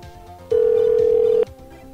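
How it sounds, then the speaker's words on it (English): A ringback tone sounds during a phone call to a store in a shopping mall: a single steady electronic tone lasting about a second, clear and moderately loud, with no talking. "So the place next to the chocolate place is not picking up their phone for some reason."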